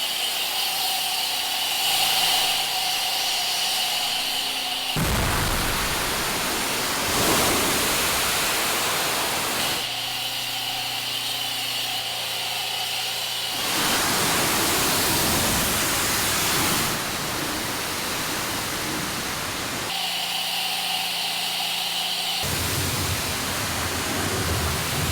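A Mosmatic foam cannon sprays a filthy logging truck in long loud bursts of hissing, rushing spray. Each burst lasts several seconds and is broken by short pauses, and the spray shifts in tone as it moves across the truck.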